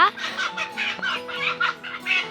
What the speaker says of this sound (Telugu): కోళ్ళు కొట్లాడుతున్నాయి బాగా కొట్లాడుతుంది కదా